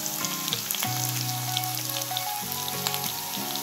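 Leftover rice pulao with carrots, turmeric and red chili powder sizzles steadily as it is stir-fried in a pan, a continuous close crackle over soft background music.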